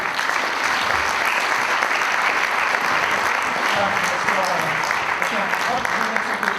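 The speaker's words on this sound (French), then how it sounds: "Voilà, pour les applaudir." Sustained applause from an audience at a prize-giving ceremony, a dense steady clapping that fills the space, with some voices mixed underneath.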